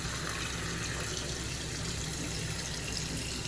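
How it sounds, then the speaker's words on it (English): A kitchen tap runs steadily, a continuous close hiss and splash of water into a sink with no pauses, fairly loud and without talk. "So stop running water."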